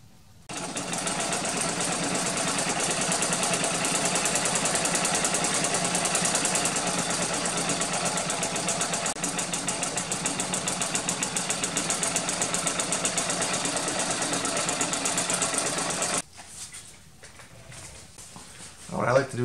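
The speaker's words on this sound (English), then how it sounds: "we're going to go ahead and sew along this side of it" A sewing machine stitches along the side of a homemade roll top stuff sack, running as a steady, dense buzz for about sixteen seconds before stopping, with faint handling noise afterward.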